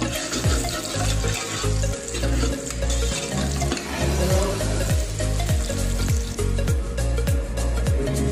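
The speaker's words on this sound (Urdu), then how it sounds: "اور اس کو آگ بھی تیز کر لیں گے اور اس کو براؤن ہونے دیں گے۔" Whole garam masala fries and browns over high heat in a pan for matar qeema, a loud continuous sizzle broken by repeated rhythmic scrapes of a stirring spoon.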